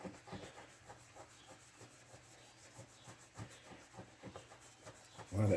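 Yellowed plastic on a Honda CT70 motorcycle is rubbed by hand with chrome polish, making quiet rhythmic back-and-forth scrubbing strokes, close and faint.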